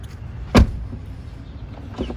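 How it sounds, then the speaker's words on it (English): Tesla Model Y door shutting once with a sharp, solid thud, followed by a quieter secondary clunk a moment later against a low background hum. "And when you close the door,"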